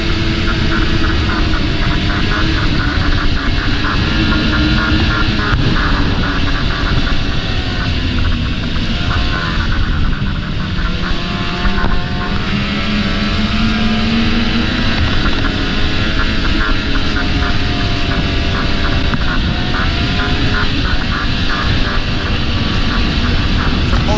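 A snowmobile engine drones loud and steady while riding a trail at Old Forge, with a continuous close roar and slight pitch shifts as the throttle changes and no talking.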